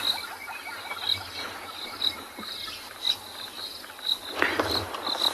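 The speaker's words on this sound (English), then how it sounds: "We can also hear the soft chirping of crickets in the background." Soft, regular cricket chirps pulse steadily in the background of a sunrise safari setting, a thin repeating trill with faint low rumble and occasional rustles underneath.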